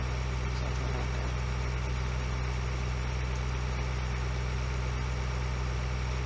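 A tractor engine idles in a farming video game, a steady low drone with a constant hum and no change in revs, fairly quiet and unbroken by speech.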